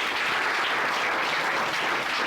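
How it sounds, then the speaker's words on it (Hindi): A seminar audience claps loudly and continuously, a thick wash of many hands sustained at an even level throughout, with no voices on top. "जोरदार ताली जाओ।"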